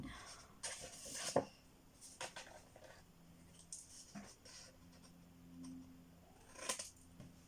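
Scissors snipping small pieces from a paper envelope, a few sharp close cuts with a loud snip near the start and another near the end, amid quiet handling rustles.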